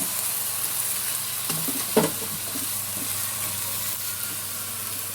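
Chicken pieces with finely chopped onions sizzle steadily in a pan for a kachori filling, with a soft scrape of stirring around the two-second mark, moderately loud and without talk.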